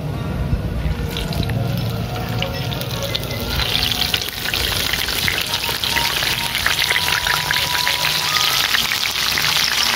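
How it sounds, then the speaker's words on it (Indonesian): Tempeh fries in hot oil in a pan while preparing a Sundanese cucumber rujak, giving a loud, continuous crackling sizzle with dense popping spatters that grows slightly busier partway through. "Kita goreng dulu tempenya ya sobat."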